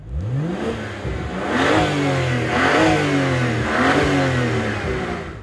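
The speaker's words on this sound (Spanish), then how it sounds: "uno pisa a fondo el acelerador y tiene un sonido ronco" A BMW 1M's 340-horsepower, 3000 cc engine revs hard several times in a row at full throttle, a deep, throaty roar climbing and falling close by.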